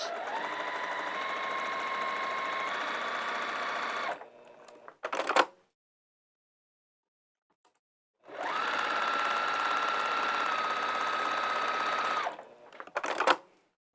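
Sewing machine stitching with Gutermann thread through slippery fabric, two steady runs of fast mechanical whirring, each ending in short back-stitch bursts, separated by a few seconds of silence.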